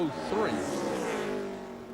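A NASCAR Busch Series race car runs a qualifying lap at Richmond, its engine roaring and shifting pitch as it revs, heard under a commentator's talk.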